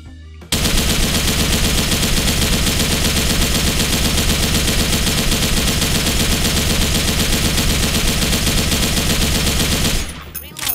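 An RPK74 light machine gun fires in Special Force 2, a long unbroken automatic burst of rapid, loud shots lasting nearly ten seconds before cutting off abruptly.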